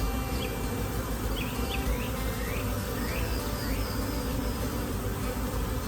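Dense, steady buzzing of many honeybees in a hive close by, a continuous hum with occasional faint chirps from birds in the distance.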